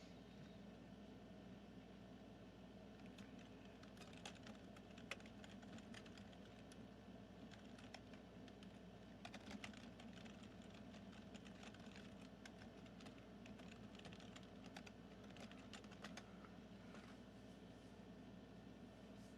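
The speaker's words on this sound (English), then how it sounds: "hearing my clicky clacky keyboard" Fingers typing on a clicky computer keyboard, a steady run of fast, faint clacks and taps over a low, constant background hum, with no one talking.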